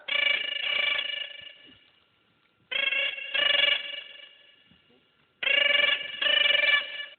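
A telephone rings loudly and close by, three bursts of double trills separated by short silences, each ring bright and electronic.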